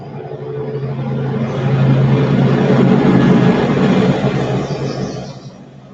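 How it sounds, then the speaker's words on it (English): Helicopters in a surround sound theater demo approach from behind and pass overhead, a low rumbling engine and rotor roar that swells to a loud peak midway and then fades away. "helicopters will slowly creep up from the back of the theater. Close your eyes and feel them fly overhead."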